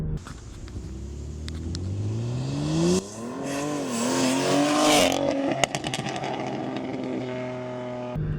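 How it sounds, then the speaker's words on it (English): A BMW X3 M SUV, tuned to over 750 wheel horsepower, revs and accelerates with a rising drone, followed by sharp exhaust pops and crackles as it lets off. "I did that new exhaust sound that I haven't heard before."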